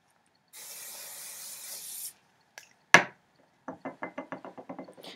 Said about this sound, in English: I had hairspray around here somewhere.